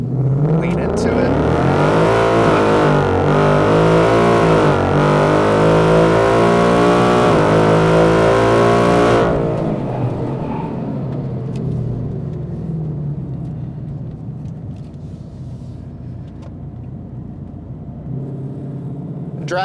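A Ford Mustang with a 10R80 automatic accelerates hard in drag mode, its engine roaring loud and close as revs climb through rapid gear changes, then the note eases and drops to a lower rumble as the car settles.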